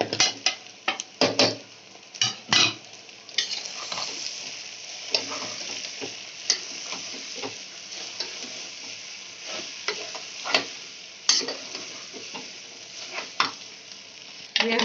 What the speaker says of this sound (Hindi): हम 5 मिनट तक प्याज में अदरक लहसुन में इसे भून लेंगे पहले।